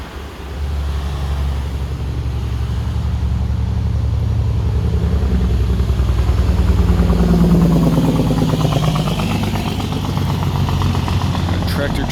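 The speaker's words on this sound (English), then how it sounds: "Tractor trailers." Tractor trailers pass on a nearby road beside a garden, a deep rumbling engine drone that swells and holds for several seconds, loud and continuous, with a voice partly under it.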